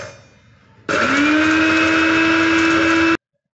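A Prestige mini masala grinder switches on with a sudden loud, steady motor whine that holds evenly for about two seconds, then cuts off abruptly into silence.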